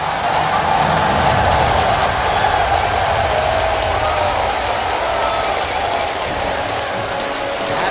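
A large esports arena crowd cheering and applauding a Taipei Assassins League of Legends victory, a steady, loud wash of clapping and roar that holds throughout.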